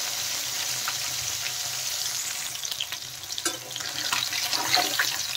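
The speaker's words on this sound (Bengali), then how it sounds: "দেখেন এক সাইড ভালো করে ভাজা হয়ে গেছে।" Rohu fish pieces fry in a pan of oil, giving a steady close sizzle and crackle with occasional spatters and handling noises, growing a little louder toward the end.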